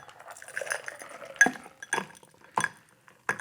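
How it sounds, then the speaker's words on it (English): Ice and liquid clink and rattle as a cocktail is shaken, then dumped into a highball glass with a few sharp, close glassy knocks and splashes, spaced apart over a quiet room. "So I'm just going to do a shake and dump."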